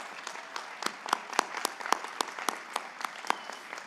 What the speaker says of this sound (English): Take a moment to thank them with your mighty applause